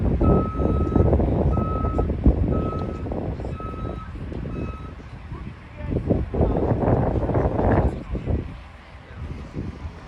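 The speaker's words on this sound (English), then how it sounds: "Mineral Point ambulance getting ready to take off." An ambulance rumbles close by at a mock accident drill while regular reversing beeps sound in an even rhythm, with wind buffeting the microphone as the engine moves.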